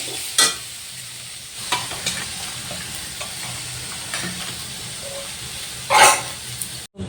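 Cabbage fries in a pan with a steady sizzle and occasional stirring scrapes. A few louder clatters punctuate the frying, a dog barks briefly in the background, and nobody speaks.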